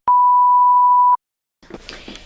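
A single loud, steady electronic timer beep at a fixed pitch, held for about a second at the start of a 15-minute countdown, followed after a pause by faint room noise.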